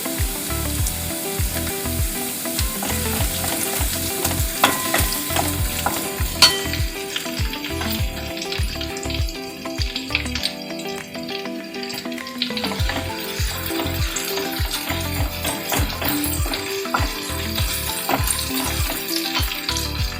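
Green chillies and garlic fry in hot oil for a spinach and peas sabzi, a dense continuous sizzle punctuated by repeated stirring knocks and scrapes against the pan.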